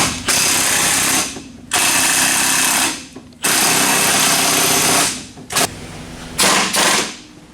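A power tool, likely an impact driver, runs in several loud bursts of two to three seconds each, then shorter blips, as it drives a new axle nut to set bearing preload on an old Fox.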